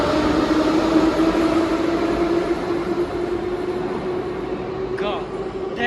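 A tram or train rumbles past with a sustained steady drone and a faint high squeal near the end, moderately close, while a voice speaks over it.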